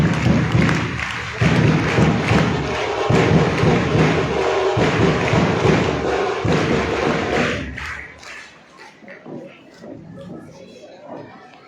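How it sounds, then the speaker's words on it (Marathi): Students at a school Independence Day flag program clap together loudly as a guest is honored, a dense sustained burst of applause that fades after about eight seconds, with voices in the background. "सर्व विद्यार्थ्यांनी जोरात टाळ्या वाजवायच्या आहेत।"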